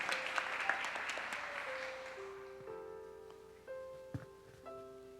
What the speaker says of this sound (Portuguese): Vamos dar uma salva de palmas para elas,